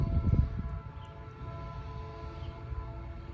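A freight train rumbles past at steady volume, a continuous low rolling drone with a faint high squeal, a slightly heavier thump near the start, then an even grind from mid distance.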